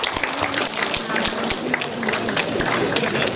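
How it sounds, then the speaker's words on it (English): An audience at a development dialogue event claps in a fast, dense patter of many hands, steady and fairly close, with faint murmuring beneath. "Can you give a clap?"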